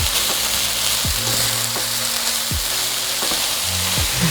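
Mushrooms hiss and sizzle loudly as they hit a hot frying pan for a vegetarian meal prep, a dense close crackle with a few low knocks from stirring, and nobody speaking.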